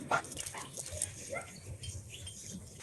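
A Kangal dog whimpers and whines in short high-pitched bursts, close by, with some background noise and faint voices around it.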